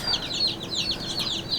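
Chickens and roosters from a batch being raised for meat, clucking and chirping in a steady, busy stream, with rapid overlapping calls close by and no talking.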